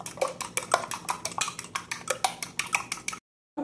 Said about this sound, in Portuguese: eu vou dar aqui uma batidinha bem dada nesses 2 ovos